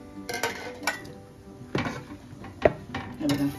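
Hard jaggery pieces clatter into a steel mixer jar in a home kitchen, several sharp knocks and rattles spread across a few seconds, close and moderately loud, with a brief spoken remark.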